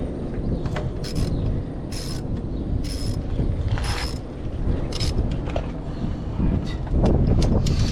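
A Cobalt ratchet with a 14mm socket works a starter bolt loose on a Lexus ES330, giving repeated close clicking ratchet strokes in a steady rhythm over faint background noise.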